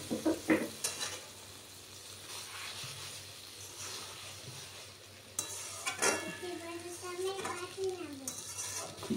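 Okra and potatoes fry in a pan with a soft sizzle, broken by scraping stirs and clinks of a spatula against the metal, while a voice is faintly heard in the background.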